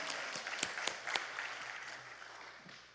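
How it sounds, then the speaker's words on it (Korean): A church congregation at a fasting prayer retreat applauding, a burst of scattered claps that thins and fades over a few seconds, with a faint voice underneath. "우리 하나님께 영광의 박수 올려드립니다."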